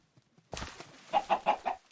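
Chicken clucking in the Minecraft video game, a short run of four evenly spaced, fairly loud clucks after a brief quiet stretch and a soft thump.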